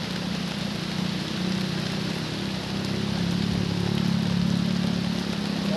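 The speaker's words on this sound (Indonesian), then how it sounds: "Hujan dah tiba sobat." Heavy rain pours steadily at a cloud-covered hilltop campsite, a loud, dense hiss of drops on surfaces with a low hum beneath, continuous and close, no voices.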